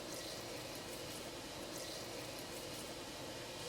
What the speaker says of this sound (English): As the oil start to heat up, add 1 teaspoon cumin seed